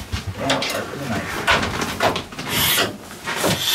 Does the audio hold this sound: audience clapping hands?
no